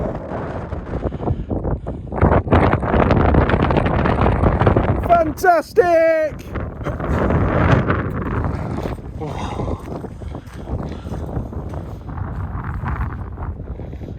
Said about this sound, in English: it's windy up here though